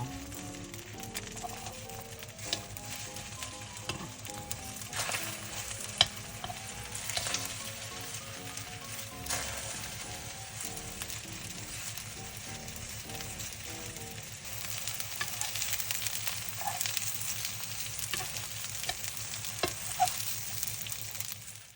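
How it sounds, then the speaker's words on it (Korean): Beef yukjeon patties fry in a pan with a continuous close sizzle and fine crackling that swells slightly toward the end, and no voices are present. "육전을 앞뒤로 노릇하게 구워주세요"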